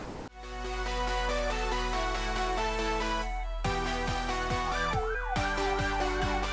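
Loud, close ambulance siren wailing continuously, starting on a steady tone and then shifting into rapid rising-and-falling sweeps, with no talking.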